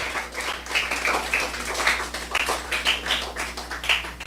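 A church congregation claps as an offering to the Lord, with steady scattered hand claps running throughout at a moderate, even level.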